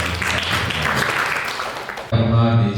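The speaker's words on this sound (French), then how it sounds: "Je demanderai de les applaudir fort" An audience claps loudly for heads of services, projects and NGOs at a youth and women's integration day in Bakel, Senegal. About two seconds of dense applause are followed by an abrupt switch to a voice.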